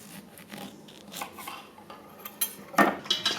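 Knife slicing through lemons on a cutting board, with a few scattered light knocks and scrapes and a sharper cut near the end, close and fairly quiet, with no voices.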